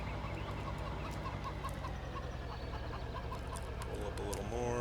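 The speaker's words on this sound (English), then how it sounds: "Chickens should be right over here" Chickens near a coop cluck steadily and busily in a dense, continuous backdrop that stays at an even level throughout.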